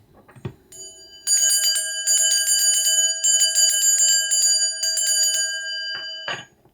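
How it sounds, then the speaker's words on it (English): A bell rings out in a fast, steady series of bright metallic strikes with long sustained tones, loud and alone for several seconds, with a brief noise before it starts and another as it ends. "Where did that bell come from?"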